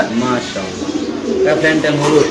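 Pigeons coo softly at a busy pigeon sale, their low throaty calls mixed with overlapping chatter and background noise.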